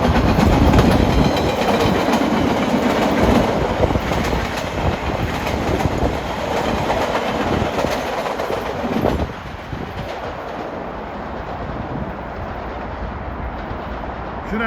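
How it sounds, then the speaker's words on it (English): MBTA commuter rail train number 87 for Greenbush passing close by, a loud rumble with clickety-clack wheel rhythm and faint wheel squeal that gradually eases as the cars roll past. "Should have MBTA commuter rail number 87 for Greenbush coming shortly."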